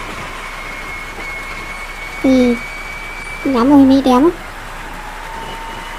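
Heavy rain pours down in a mobile bus-driving game set during a flood, a steady dense hiss running throughout while someone speaks briefly twice.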